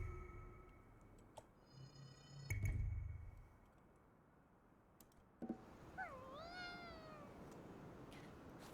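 A cat meows in the video game GhostWire: Tokyo, one drawn-out rising and falling meow near the end, preceded by soft ticking and clicking game sounds over a quiet background.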